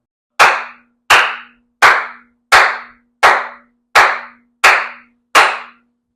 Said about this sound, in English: You're gonna hear me clap my hands to give you a cue on how fast it's gonna be.